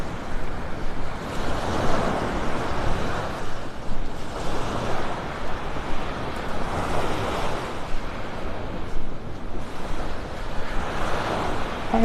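Ocean waves breaking on a beach in North Naples, Florida: a continuous rolling surf with swelling crashes every few seconds, close and fairly loud, with wind buffeting the microphone.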